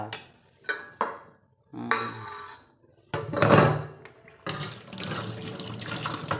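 Water runs from a tap in bursts as dishes are washed in a sink, with clinks and rinsing splashes between short pauses.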